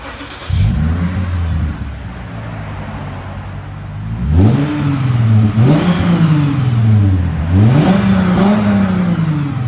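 Revving V6 of a 2010 Lexus IS 350 with dual exhaust and a muffler delete, loud and close, with an idle opening into three rising-and-falling blips that swell into a deep, throaty roar.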